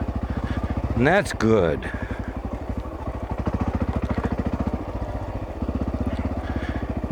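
A dirt bike pulls away in second gear on an off-road trail at Parker Flat, its engine rising in a quick revving sweep before settling into a steady low chug, with a short spoken remark over the motor.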